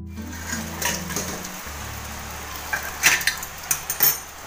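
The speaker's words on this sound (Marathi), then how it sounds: "आता ह्याच्यावर ना अगोदर मी झाकण ठेवते" A lid set down on a cooking pan during home cooking, heard as a few light metallic clinks and knocks near the end, following a low steady hum with no talking.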